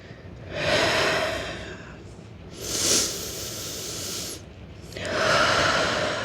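Three long, airy breaths, deep inhales and exhales, pass close and clearly during a seated yoga forward fold over crossed legs, with soft hiss between them and no talking.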